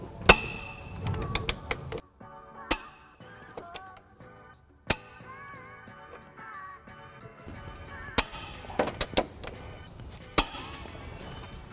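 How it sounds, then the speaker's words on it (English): Torquing trailer hitch nuts on a 2012 Hyundai Sonata with a 3/4 inch socket and 5-inch extension, giving sharp metallic clicks and clunks in separate bursts, close, with quiet gaps and faint background music between. "Now we're just going to torque the nuts down to the hitch manufactured specs."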